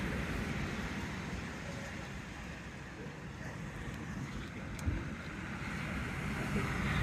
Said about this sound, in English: So the waves are really big.